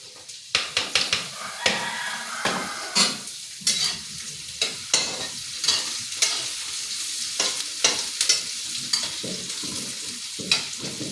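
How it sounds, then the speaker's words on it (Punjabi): Chopped onions frying in a pan while being stirred, with a steady sizzle and frequent scraping strokes of a spoon against the pan in quick irregular rhythm, close and fairly loud, no talk. "ਇਹਨਾਂ ਤੇ ਆਪਣੇ ਪਿਆਜ਼ ਭੁੰਜ ਰਹੇ ਆ"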